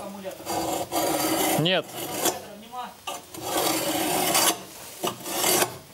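Metal is sawn or filed with repeated close, rough rasping strokes at an irregular rhythm, and a voice briefly speaks between them.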